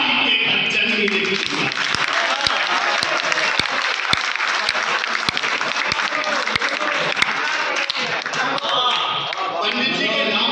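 Applause from an audience at a large Hindi poetry gathering, dense continuous clapping with occasional sharp individual claps, sustained and fairly loud throughout.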